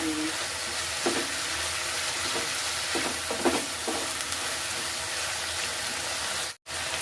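Noodles for a street-style frankie frying and being stirred in a pan with soy sauce and other sauces, a steady close sizzle with a few scraping stir strokes, then a brief cut near the end.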